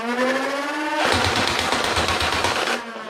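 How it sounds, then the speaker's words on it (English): A Nerf Ultra Speed blaster fires a rapid, continuous burst at a target, a fast stream of darts with a whirring motor whine before and after the loud rattling volley. "Now let's take some shots at our target and see what that rate of fire looks like."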